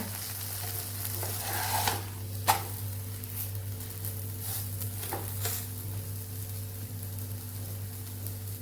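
Millet flour pancakes frying in a pan make a steady, close sizzle with a few soft scraping and flipping touches, heard alone without talk.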